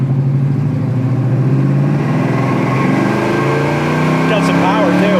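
A 1972 Chevy Nova with a big-block engine runs close by in a steady, throaty rumble that rises in pitch near the end, with voices over it.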